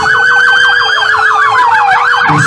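Fire brigade truck sirens at a Brazilian Independence Day parade, a loud, close wailing siren sweeping steadily up and down, with a second tone sliding downward near the end.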